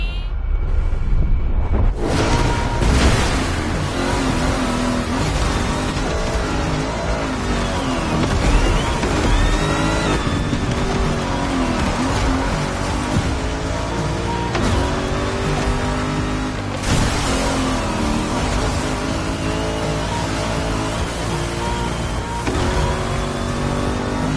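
A car engine revs hard in The Crew racing game, loud and close, its pitch climbing and falling through repeated gear changes for a long continuous stretch with no talking.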